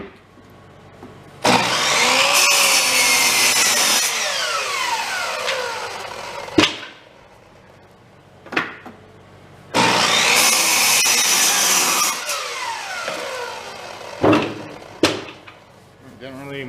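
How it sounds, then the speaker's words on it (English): Electric saw powered by a woodgas-fueled Predator 8750 inverter generator, cutting in two long loud bursts of roughly five seconds each, followed by sharp short knocks and clatter between cuts. "We'll run the saw here."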